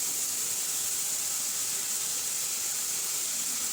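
Spice paste frying in oil in a pan makes a constant, bright sizzling hiss, loud and close, holding steady without a break.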